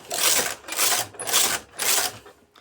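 The carriage of a knitting machine sweeps back and forth across the needle bed, giving four rhythmic, rasping passes in quick succession, close and alone.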